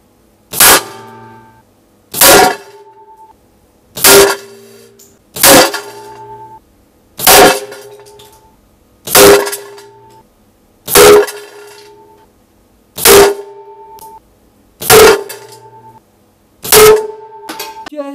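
Ten evenly spaced 6.35 caliber shots striking a metal can box at 25 yards, each a sharp crack with a ringing metallic clang, loud and clear against a quiet background.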